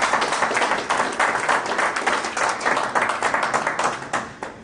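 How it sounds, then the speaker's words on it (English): Steady audience applause fills an induction and investiture ceremony hall, dense overlapping claps holding at an even, fairly loud level throughout. "More round of applause,"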